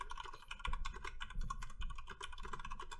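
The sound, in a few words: typing on a computer keyboard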